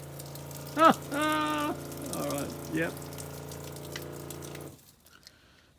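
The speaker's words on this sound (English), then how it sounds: "we might want to turn the water pump on" A water pump in a 4WD canopy hums steadily with a tonal whine as water flows, continuous under brief speech before cutting off near the end.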